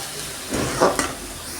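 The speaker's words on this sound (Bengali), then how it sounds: "ভেজে সিদ্ধ করে নিয়ে তারপর আমি এরকম করে ভাজি লাল শাক" Red amaranth greens sizzle steadily in a hot pan as they are stirred, with a couple of louder scraping bursts and no talking.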